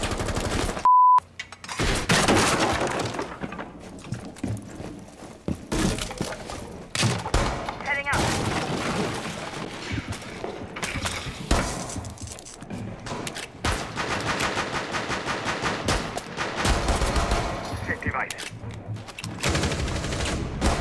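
Rapid pistol gunfire in a tactical shooter video game, a ranked match played with pistols only, cracking in dense bursts and volleys through nearly the whole stretch, loud and close, with a short electronic beep near the start.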